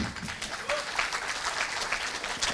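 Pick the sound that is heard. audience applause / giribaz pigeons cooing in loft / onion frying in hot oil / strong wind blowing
audience applause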